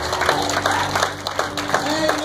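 Church congregation clapping together in a worship service, steady rhythmic claps mixed with music and cheering, fairly loud and continuous throughout.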